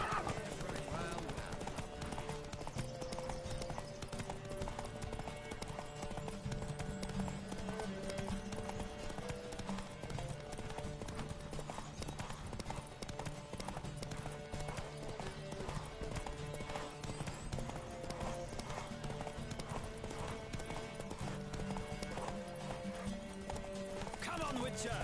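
Horses galloping in a race in The Witcher 3, a dense, steady drumming of many hooves with an occasional whinny, running continuously under game music and voices.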